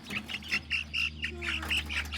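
Several older salmon Faverolles roosters call in short, repeated squawky bursts, fairly close, over a steady low hum from a building or fan.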